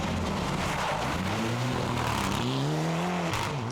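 Engine of Gavin Kelly's Mitsubishi rally car at the Ulster Rally, a steady loud drone with rising and falling pitch as it revs through gears, close and continuous with no voices.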